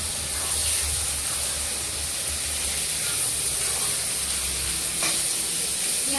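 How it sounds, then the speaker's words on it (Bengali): Green chilli and onion sizzle in hot oil in a pan, a steady, close, bright hiss running unbroken throughout. "লঙ্কা দিয়েছি, ফুটছে, দাও এবার আমি পেঁয়াজটা দিয়ে দিলাম।"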